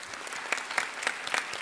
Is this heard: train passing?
no